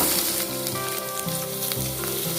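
Garlic and cubed onion sautéing in a pan for Chinese-style Maggi noodles, a bright constant sizzle with occasional stirring scrapes, close and clear with no talk.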